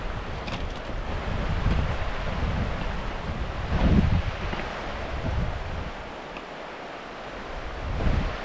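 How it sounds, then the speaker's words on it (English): Careyburn waterfall pours steadily, a loud broad rushing roar with surges of wind buffeting the microphone, close by and with no talking. "So it's a beautiful waterfall."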